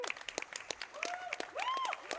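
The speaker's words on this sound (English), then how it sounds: "big applause" Applause from a gaming showcase audience after an Elden Ring cutscene, a steady patter of claps with tonal game sounds and brief cheers mixed in, moderately loud.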